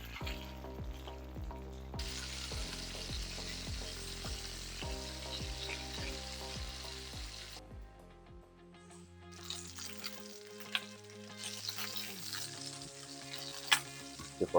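Chicken thighs sizzle steadily in a hot pan under a rhythmic musical backing, then the sizzle carries on more openly while the pieces are turned with small tongs, with occasional sharp taps and clicks of metal.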